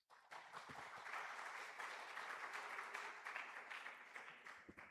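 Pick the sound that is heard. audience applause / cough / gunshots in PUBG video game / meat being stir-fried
audience applause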